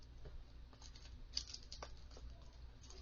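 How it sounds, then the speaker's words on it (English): Plastic packaging around an EMEET SmartCam C960 webcam crinkles and patters quietly in light, scattered taps and rustles while being unboxed, close-up and faint with no talking. "A little bit some ASMR from the plastic"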